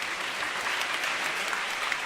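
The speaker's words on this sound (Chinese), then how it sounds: "拍手，谢谢他们。" Church congregation applauding at an Easter worship service, steady dense clapping from many hands throughout, fairly even and moderately loud with no talk over it.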